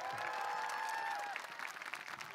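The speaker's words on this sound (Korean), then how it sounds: "박수 한번 칩시다 서로." A crowd claps at a youth festival lecture; brief, fairly faint applause with a sustained tone early on, thinning into scattered claps by the end.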